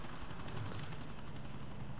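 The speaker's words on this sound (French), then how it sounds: "Allez, hélicoptère rapide." Helicopter flying in GTA 4: The Ballad of Gay Tony, a steady loud rotor drone with low thumping throughout, close and continuous with no talk.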